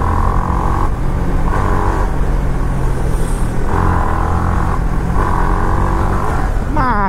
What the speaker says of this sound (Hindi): साउंड सुनो, साउंड तो शोर मत सुनो, साउंड सुनो गाइस बाइक का।